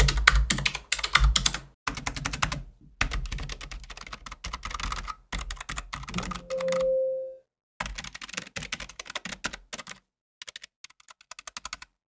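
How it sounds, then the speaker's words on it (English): Typing on a Razer Deathstalker V2 Pro keyboard with linear low-profile optical switches, close and fairly soft, in bursts with pauses and a brief tone partway through, fading toward the end. "my Clicky low-profile optical switches versus black-colored option with linear optical switch."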